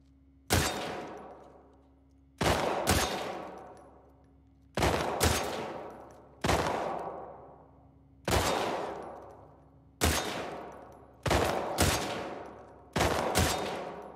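Gunfire from a shooting contest in The Last of Us Part 2, eight loud, sharp single shots spaced about one to two seconds apart, each ringing out with a decaying echo, and no voices.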